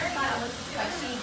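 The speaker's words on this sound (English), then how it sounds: "Orbe Dry Texture Spray" Aerosol dry texture spray from an Oribe can misted onto hair, a steady close hiss that lasts the whole moment, with voices talking faintly underneath.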